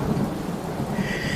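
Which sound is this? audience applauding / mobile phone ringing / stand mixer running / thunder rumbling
thunder rumbling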